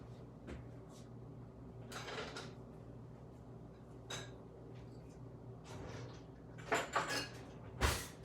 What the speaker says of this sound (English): I am going to get a big spoon to stir this all up with.